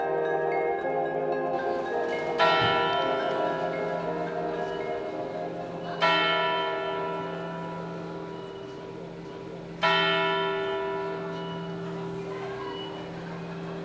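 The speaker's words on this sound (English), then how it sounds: "This is the Zeitglocke, a German word that means time bell." The Zeitglocke clock tower bell in Bern strikes three times at intervals of roughly four seconds, each clear metallic stroke ringing out and decaying over a steady low background hum.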